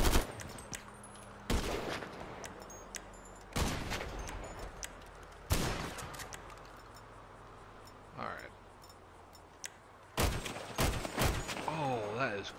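Several bursts of SCAR-H rifle fire in the video game FiveM, each a sharp crack with a ringing tail, spaced a couple of seconds apart, with faint background noise between.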